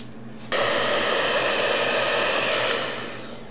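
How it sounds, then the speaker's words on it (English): A hair dryer switches on after a brief pause and blows with a steady, loud whoosh, then eases slightly toward the end. "I'll help it out with a hair dryer."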